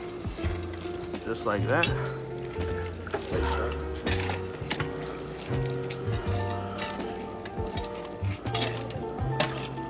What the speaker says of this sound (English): So we're just gonna give it a good mix in here.